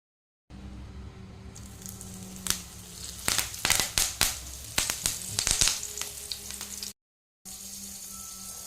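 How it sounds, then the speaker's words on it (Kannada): Marinated fish frying in a pan over a slow flame: steady close sizzle with a cluster of sharp crackling pops and spatters in the middle, then a brief break before the sizzling resumes. "ಇವಾಗ ಮೀನು ಮ್ಯಾರಿನೇಟ್ ಮಾಡಲಿಕ್ಕಿಟ್ಟು ಅರ್ಧ ಗಂಟೆ ಆಯಿತು ಇನ್ನು ನಾನು ಫ್ರೈ ಮಾಡ್ತೇನೆ"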